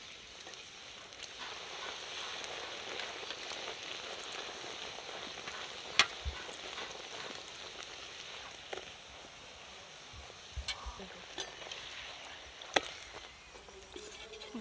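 Pea-filled kachori puffing up as they deep-fry in hot oil for a winter breakfast, a steady crackling sizzle throughout with a few sharp taps and clinks near the pan, no voices.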